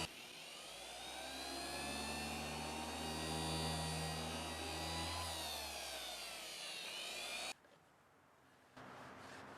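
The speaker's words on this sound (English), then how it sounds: "And of course buffing the neck as well." A buffing wheel spins against a custom guitar neck with a steady, loud motor whine and rising-falling harmonic hum, then cuts off abruptly into quieter background noise near the end.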